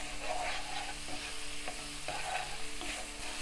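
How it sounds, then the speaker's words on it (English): Tamarind pulp is sautéed in a Kerala-style fish curry pan. A steady sizzle runs throughout, and a spoon scrapes the pan in a few distinct strokes about every half second to second. "Now at this stage we have to add tamarind pulp. And saute for a minute,"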